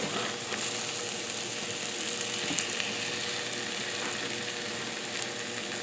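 Spicy cheesy potatoes sizzle and fry steadily in a pan while a utensil stirs them, with faint scraping taps over the continuous crackle.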